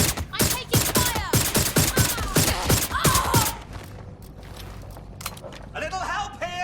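Rapid bursts of gunfire in the video game Watch Dogs Legion, a dense run of loud sharp shots for about three seconds, then quieter scattered sounds and clicks with voices heard in the scene.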